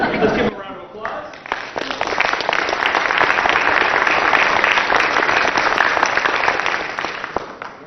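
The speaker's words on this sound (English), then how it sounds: "Let's give them a round of applause." Applause at a state executive council meeting breaks out after a brief voice, then continuous clapping from a modest crowd carries on steadily to the end.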